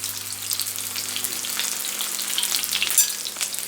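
Sesame-breaded chicken breast frying in a pan, with a close, steady hiss and crackle of oil that rises slightly near the end.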